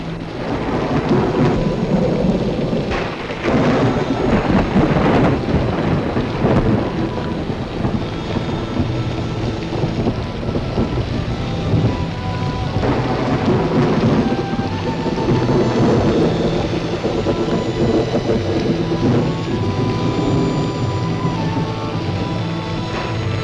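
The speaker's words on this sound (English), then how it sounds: "Perhaps the rain will continue a few more days, a few weeks." Heavy rain pours in a 1950s jungle horror film, with rolling thunder rumbling repeatedly over a dense, continuous downpour. The storm stays loud and close throughout, with no talk.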